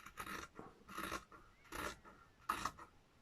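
Scissors trimming the edge of a fabric square for a handmade needle keeper book, four short close snipping bursts about half a second apart in a quiet room.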